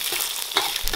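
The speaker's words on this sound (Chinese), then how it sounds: "然后加入葱姜蒜， 把三来八个等香料也倒进来，用油憋出香味。" Scallion, ginger, garlic and spices such as star anise fry in hot oil, a loud, close, continuous sizzle with a stirring scrape partway through.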